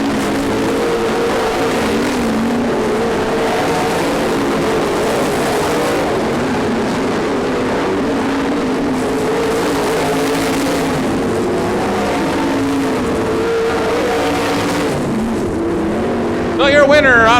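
Race cars roar through the final lap of a short-track race, a continuous dense engine drone from a pack of cars, loud and steady with a commentator talking over it.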